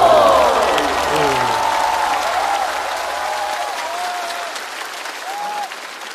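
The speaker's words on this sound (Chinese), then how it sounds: "掌声送给我们的大魔王" Loud, sustained audience applause fills a studio at a Chinese comedy roast talk show, steady clapping with scattered whistle-like cheers rising above it and tapering slightly toward the end.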